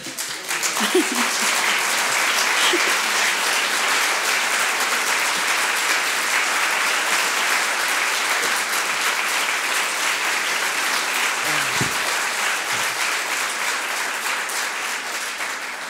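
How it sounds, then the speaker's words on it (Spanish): Sustained applause from an audience in a full lecture hall, a dense even wash of clapping that holds steady and fades slightly toward the end, with faint voices underneath. "¿Escuchaste el aplauso?"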